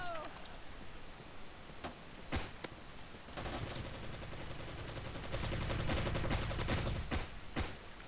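Gunfire in the first-person shooter Bullet Force, with sharp single shots early that build into dense, sustained automatic bursts over continuous battle noise, loud and close.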